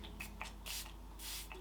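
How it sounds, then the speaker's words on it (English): Short mist bursts from a spray bottle onto a small makeup brush loaded with hot pink eyeshadow, about four quick, soft spritzes spread over a moment, close and fairly quiet. "So just picking that up on a little brush, and I might just spray it"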